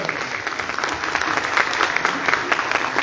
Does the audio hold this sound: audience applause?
yes